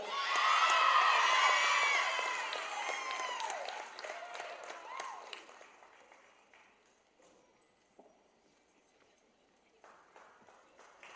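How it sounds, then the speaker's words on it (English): Spectators at a women's volleyball championship applaud and cheer student athletes, a crowd's clapping mixed with whoops and high shouts, strong at first and then dwindling to scattered claps within a few seconds. "how about another round of applause for these fine student athletes for 2025 ODAC All-Tournament Team"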